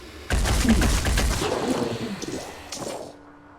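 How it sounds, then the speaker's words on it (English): A burst of gunfire from the turn-based video game Phoenix Point, loud sustained shots fading over a few seconds, with a brief voice near the start. "We now can't do the quick aim, so we'll just do regular shooting"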